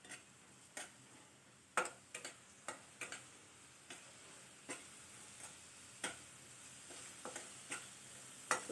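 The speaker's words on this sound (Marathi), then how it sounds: "आलं लसूण आणि कोथिंबीरची पेस्ट घालून घेणार आहे, 1 चमचाभर" Ginger, garlic and coriander paste sautéing with onion for an egg masala, with a low steady sizzle and sharp spoon taps against the pan every second or so, no voices.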